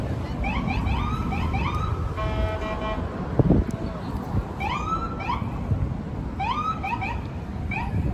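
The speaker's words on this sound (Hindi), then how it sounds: "यहाँ पे अभी पुलिस का सायरन हॉर्न बजने लग गया" A police siren horn in a city street sounds in repeated rising whoops and a short buzzing blast, fairly close, with people talking over it.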